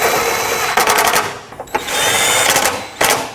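A power tool snugs radiator support bolts on a 2005-2010 Pontiac G6, firing in several short, loud buzzing bursts separated by brief pauses.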